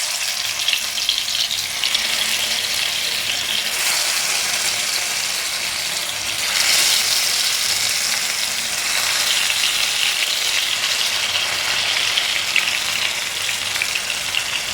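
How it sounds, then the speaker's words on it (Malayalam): Fish frying in the oil left over from frying onions for a Kerala-style fish biryani, a continuous loud bubbling sizzle that swells midway, with no voices. "സവാള കോരി മാറ്റിയ എണ്ണയിലേക്ക് തന്നെ നമുക്ക് മീനിട്ട് കൊടുക്കാം"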